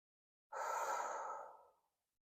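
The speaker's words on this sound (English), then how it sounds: "Taking a breath." A single slow, deep breath out during a yoga hip-opener session, a soft airy exhale lasting over a second that fades away, close and quiet with silence around it.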